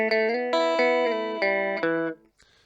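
A rockabilly phrase on a distorted electric guitar: a quick run of plucked notes and chords, each attack ringing out clearly before the phrase stops abruptly near the end.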